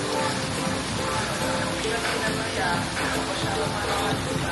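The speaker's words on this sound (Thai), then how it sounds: "วันนี้ฝนตกหนักมาก" Dense, steady heavy rain pouring down in Phetchaburi, Thailand, a continuous hiss of drops on surfaces throughout, with a faint voice murmuring underneath.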